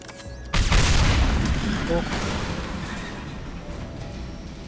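Tanks blow up in the Mass Effect game with a sudden loud boom that rolls into a long, slowly fading rumble, with brief voices around it.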